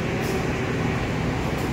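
Priority-class passenger train hauled by a CC 203 locomotive rolls along, a steady broadband rumble heard from inside the carriage with no talking.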